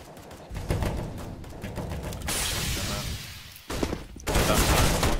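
Counter-Strike gunfire on the Mirage map, with dense bursts of rapid shots and loud crackling volleys that cut in and out against steady game noise.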